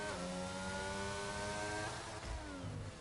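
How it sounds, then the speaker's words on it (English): A race car in a racing video game over-revs as its wheels spin on a rumble strip near the Baku wall: a loud, sustained high engine whine that wavers and drops in pitch near the end, with no talk. "you can hear the car just over revving as it just gets wheel spin on that ripple strip there"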